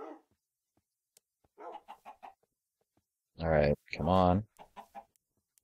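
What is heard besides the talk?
chickens clucking in Minecraft video game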